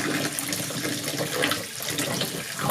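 Tap water runs steadily into a sink to rinse developed photographic film, a continuous close splashing hiss with no talking.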